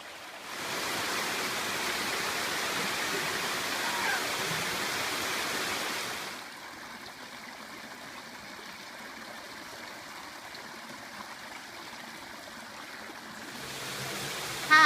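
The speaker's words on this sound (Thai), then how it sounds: "น้ำตกที่นี่เนี่ยก็ใสแล้วก็เย็น มากๆเลยนะคะ" Khao Ang waterfall in Ban Bueng, Chonburi, Thailand, pours as a steady, close broadband rush, loud for the first six seconds and then softer and more distant, with no voices.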